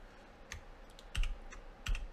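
Computer keys are pressed for a shortcut in radio software, a few soft, scattered clicks and thumps heard close in an otherwise quiet room.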